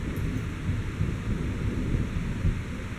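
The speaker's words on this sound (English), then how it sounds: "I love the sound of a thunderstorm" A thunderstorm rumbles on without a break, a dense low roar of thunder mixed with rain hiss, loud and unbroken with no voices.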